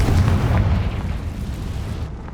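A Confringo spell explosion in the video game Hogwarts Legacy lands as one loud, deep booming blast with a rolling low rumble that slowly fades out over about two seconds.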